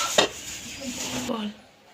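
A cooking pot of hilsa curry with mustard and eggplant is lifted off a gas stove, giving a sharp metallic clank and brief scraping of cookware, followed by a soft fading rustle.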